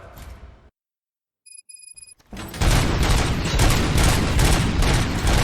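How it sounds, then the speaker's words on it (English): After a brief pause and a few electronic beeps, rapid bursts of gunfire erupt loudly and continue in a dense, rattling barrage in the video game RoboCop: Rogue City. "Gunshots? What's going on?"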